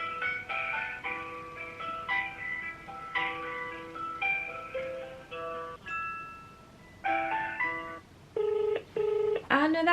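A phone plays a series of dialing tones while a call is being placed, a string of short clean beeps in varied pitches followed by longer repeated tones at the end.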